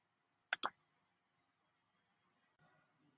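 Two quick, crisp mouse clicks in close succession during a StartGPS app tutorial, followed by near silence and a faint bit of background noise.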